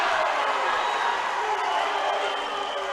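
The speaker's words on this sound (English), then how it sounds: "Home crowd doesn't like that call." A home crowd at a women's college volleyball match against Calhoun reacts to a referee's call with a broad, steady roar of disapproving voices, loud and sustained throughout and slowly easing toward the end.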